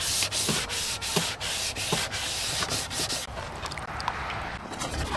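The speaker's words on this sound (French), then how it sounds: "Donc là je ponce, on refait une couche." Sanding motorcycle paint by hand, heard as continuous close, loud rasping strokes in a steady back-and-forth rhythm with no talking.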